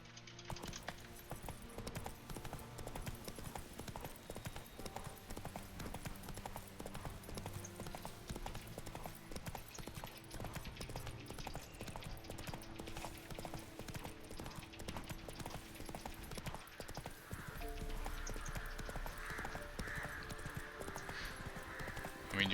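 Horse hooves gallop in steady, rapid clip-clop rhythm throughout in The Witcher video game, continuous and fairly loud, with game ambience and music underneath and a brief neigh.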